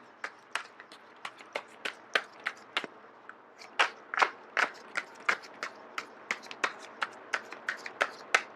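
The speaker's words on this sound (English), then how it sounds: "I am going to shuffle until the first card drops out." Tarot cards riffled and shuffled in quick repeated bursts, close up, each flutter a sharp papery snap, about two dozen in steady rhythm with no voices.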